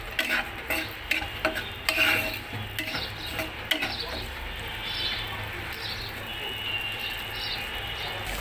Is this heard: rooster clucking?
no